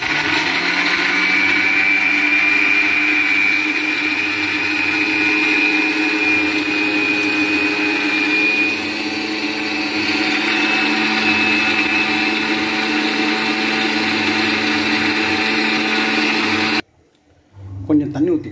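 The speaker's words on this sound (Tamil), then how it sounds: "எல்லாத்தையும் போட்டு அரைக்க வேண்டியது தான்," An electric mixer grinds tomato, onion and green chilli for a crab kurma, a loud steady whirring roar for about seventeen seconds before cutting off abruptly, followed by a brief clatter.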